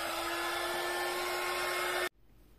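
A hair dryer or heat gun blows on a handmade Mother's Day card, a steady loud whirring hiss with a constant hum that runs evenly, then cuts off abruptly near the end.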